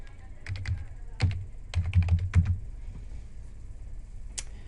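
Password being typed on a computer keyboard at a teacher login: two quick bursts of close, crisp key clicks separated by short pauses, then one last isolated tap, with no talking.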